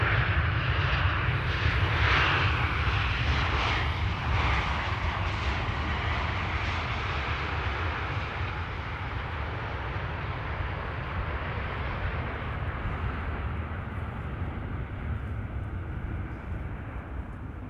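An Air Canada Boeing 777-200LR airliner arriving at Amsterdam Schiphol, its big engines producing a steady, loud jet roar that is strongest at the start and then settles into a sustained, slowly fading rumble.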